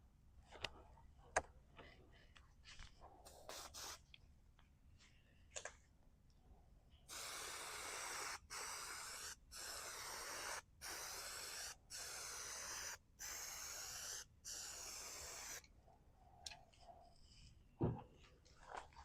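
Spray paint goes on in medium coats as a run of short, evenly spaced hissing bursts from an aerosol nozzle, close and fairly loud, with quiet handling clicks and breaths before and after.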